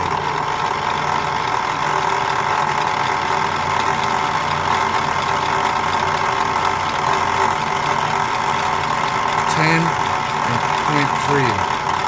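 DIY 36-inch wind turbine alternator spinning at around 300 RPM on a test rig, a steady droning mechanical hum throughout, with a few faint knocks near the end.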